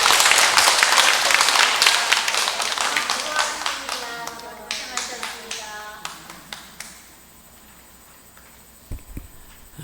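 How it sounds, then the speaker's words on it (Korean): An audience at a monthly meeting applauds, starting with dense, loud clapping that thins into scattered individual claps and dies out, while voices talk over the later part. "그동안 열정적으로 강의해 주신 우리 김항원 봉사자님께 다시 한번 뜨거운 박수 보내드리겠습니다"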